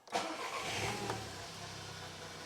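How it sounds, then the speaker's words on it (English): A 2011 Audi A3 / VW Mk6 Golf GTI engine cranks briefly and catches, then settles into a steady, fairly loud idle close by, with no talking. "I jumped back into the vehicle, started up"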